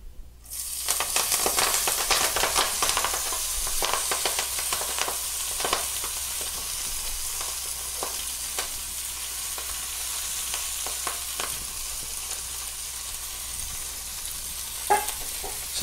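Collard greens sizzle in hot olive oil over a barbecue, a loud, continuous frying hiss with occasional stirring clatter throughout, and no talking.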